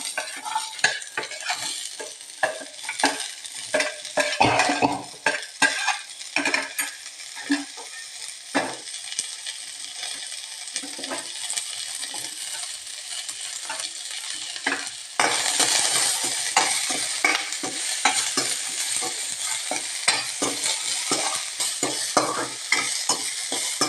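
Sliced onion fries with curry leaves in a pan for papaya masala curry, the sizzle broken by rhythmic stirring scrapes and taps, growing louder and busier in the second half.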